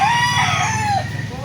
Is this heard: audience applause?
no